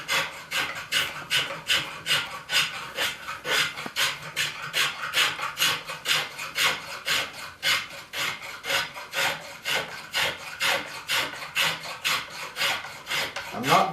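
A spokeshave rounds a wooden chair spindle in quick, regular rasping strokes, each a short scraping burst repeating steadily for the whole stretch, close and fairly quiet with no talking.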